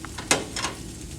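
Salmon hitting a lightly oiled hot pan gives a brief, close sizzle with a sharp burst of crackle and a softer second flare, all within about a second, with no talking.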